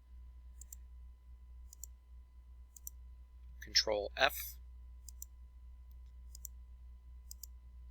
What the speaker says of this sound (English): I'm clicking everywhere I'm making the shape